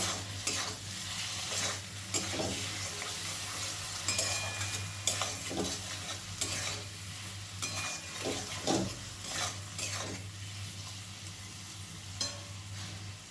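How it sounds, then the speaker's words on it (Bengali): Egg chochori cooking in a frying pan with turmeric being stirred in, a spatula scraping and clattering against the pan at an irregular pace over a low continuous sizzle, close up with no talk. "আবারও ভালো করে সব কিছু নাড়াচাড়া করব"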